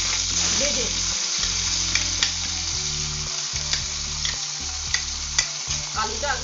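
Diced potatoes fry in oil in a pan for fish head murighonto, sizzling steadily up close while a spatula stirs and scrapes in regular strokes.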